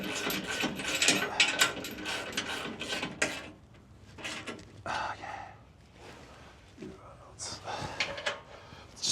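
A ratchet tightens bolts on a transfer case skid plate under a Ford Ranger Raptor, giving bursts of rapid close clicking that start and stop, with faint breathing or murmuring in between.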